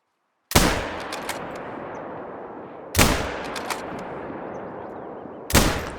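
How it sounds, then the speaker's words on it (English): Three loud, sharp rifle shots fired at a game animal in theHunter: Call of the Wild, a .243 rifle, spaced a couple of seconds apart, each cracking out of silence and trailing into a long rolling echo. "Not the best shots, but I at least got one."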